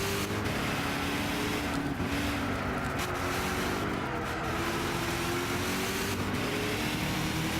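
A car driven around the Roller Springs track in Gran Turismo 6 gives a steady, loud engine drone with shifting pitch, constant throughout with no talking.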